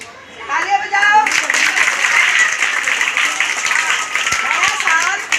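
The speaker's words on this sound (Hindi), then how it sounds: "तालियां बजाओ।" Children and parents clap together at a New Year welcome for teachers at a school for needy students, the applause swelling from scattered claps into a loud, sustained burst under raised voices and children's chatter.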